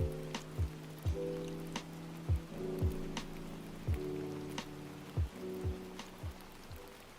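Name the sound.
rain ambience in video game Against the Storm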